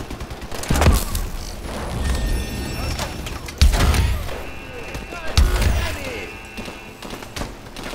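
Bursts of gunfire in Call of Duty: Advanced Warfare, sharp shots and heavy impacts at irregular intervals, over a busy mix of game effects and background noise.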